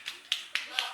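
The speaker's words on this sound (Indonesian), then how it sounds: "Tepuk tangan dulu." Four separate hand claps in a quiet room, sharp and fairly faint, spaced about a quarter second apart.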